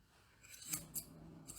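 Grooming scissors trim an American Cocker Spaniel's coat, giving a few crisp, faint snips spaced irregularly over a quiet background, the last two in quick succession.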